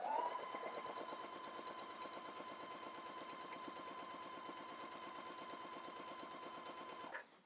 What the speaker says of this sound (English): now I'm going to go to the machine, and I'm going to sew this in one pass at 5/8 of an inch